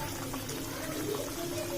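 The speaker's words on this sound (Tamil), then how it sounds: "இப்போ நல்லா கொதிக்குதுங்க." Chicken curry with a ground paste of tomato, onion and green chili plus garam masala boils in a pot, giving a steady, continuous close-up bubbling and simmering hiss with no pauses.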